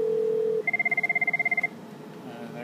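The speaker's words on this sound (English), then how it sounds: "See, it's ringing in on the Cisco phone" A Cisco IP phone rings once with a rapid warbling electronic trill lasting about a second, after a steady ringback tone; the ring is clear and near, with no talk over it.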